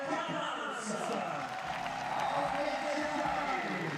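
At the Briançon 2024 speed climbing finals, a crowd applauds and cheers the finalists as a faint, steady wash of clapping and murmur, with a voice speaking over it.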